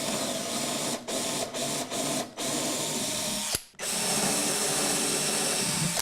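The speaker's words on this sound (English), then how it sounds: "I'm just going to stick the drill bit in and drill it out." Power drill with a 1/8 inch bit drilling out screw holes in a wooden base, running in a steady whine with several brief stops and restarts, then a longer pause before continuing.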